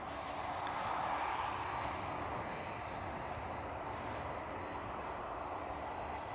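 A Boeing 767 airliner on the ground at Schiphol airport gives off a steady, broad engine roar with a faint high whine held throughout, moderately distant and unbroken.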